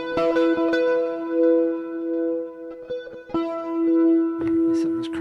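Electric guitar through distortion and effects, sustained ringing notes with chorus-like shimmer and echo, a few picked attacks restriking the chord, some harmonics running a little hot, no voices over it.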